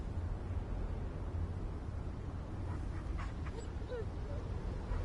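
A dog whimpers and yips in the video game The First Descendant, short high whines rising over a constant low game hum and ambient noise.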